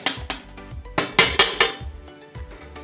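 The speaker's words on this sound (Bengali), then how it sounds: "মাঝে মধ্যে কিন্তু একটু নেড়ে দিতে হবে আবার ঢেকে দেব" A metal lid goes back onto a cooking pot of chicken in white gravy, giving a quick series of ringing clinks and light clanks over about three seconds, with no voices.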